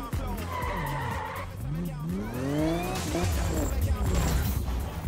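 A car in the Need for Speed racing game spins a donut with loud, wavering tire squeal and skidding over a revving engine, while someone talks over it.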